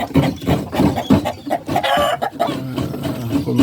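Ten-month-old Rhode Island Red chickens, including roosters, clucking nearby in a busy run of overlapping calls, with a louder drawn-out squawk in the middle.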